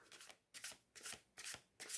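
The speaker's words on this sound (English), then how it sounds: "Let me do my shuffle a couple of times. First, I'll try an overhand to see how that works." A tarot card deck is shuffled overhand in five quick, soft papery bursts at an even rhythm, close and quiet with no talk.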